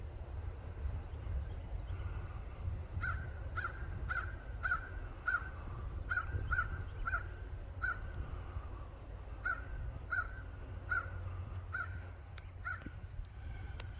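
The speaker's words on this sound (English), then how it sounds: "There's a crow." A crow caws repeatedly in short bursts of harsh calls, moderately distant, over a low rumbling background hum.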